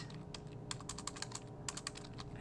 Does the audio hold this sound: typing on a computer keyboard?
yes